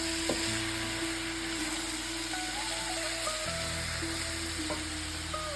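Shredded cabbage with mustard seeds and curry leaves fries in a wok under a constant dense sizzle and crackle, with background music playing throughout.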